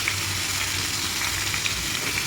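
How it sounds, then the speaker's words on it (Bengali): Potatoes fry in hot oil in a pan, giving a dense, even sizzle that stays close and loud throughout, with no voices. "ওই তেলের মধ্যে আলুগুলো একটু ভেজে নেব।"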